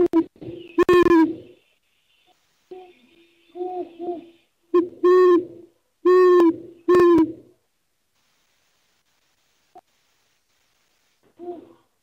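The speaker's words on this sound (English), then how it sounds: "what you heard was a pair of great horned owls duetting" A male and a female great horned owl hoot back and forth in a duet, giving several short deep bursts of hoots separated by quiet gaps. The calls are clear against a silent background.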